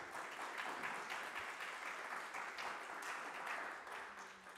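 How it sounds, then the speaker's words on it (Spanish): A church congregation at a Sunday service breaks into steady applause, a fairly faint but continuous clapping wash lasting several seconds before tapering slightly at the end. "Amén, aplausos."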